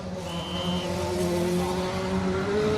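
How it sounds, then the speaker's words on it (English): A Ford Puma rally car on a circuit rally stage drives past with a raspy, rising engine note, loud and close, rolling on steadily for the whole stretch with a brief high whine early on. "Raspy engine note, isn't there, in that? Sounds good."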